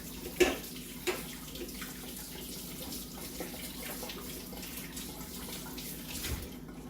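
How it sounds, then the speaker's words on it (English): A kitchen tap running while hands are rinsed after making apple pie bread, a quiet steady stream of water with a few soft splashes and clunks. "And rinse my hands off."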